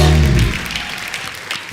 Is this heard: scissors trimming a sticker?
no